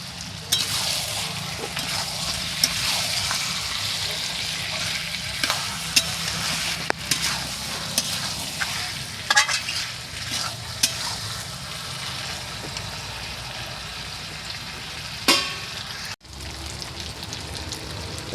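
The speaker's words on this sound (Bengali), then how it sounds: "এবার আলুটা দিয়ে দেবো, ভেজে রাখা আলুটা দিয়ে দেবো।" Fried potatoes going into braised country chicken curry, with a continuous crackling sizzle and scattered stirring knocks against the pot, close by, with a brief dip near the end.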